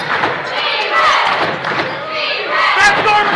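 A crowd in a gym at a college men's basketball game between Fresno City and West Hills-Coalinga roars and chants steadily, with scattered thuds under the noise.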